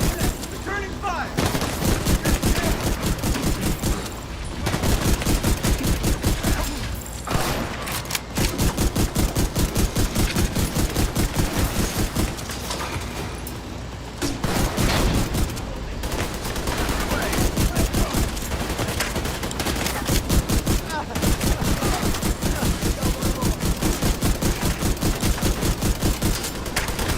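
Sustained gunfire in The Division 2 fills the whole stretch, loud and continuous bursts of automatic weapons with brief gaps, while a voice speaks over the shooting now and then.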